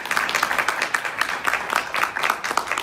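Church congregation clapping for the in-house musicians at a morning service, a smaller and sparser round of hand claps with audible individual beats that rise and fall.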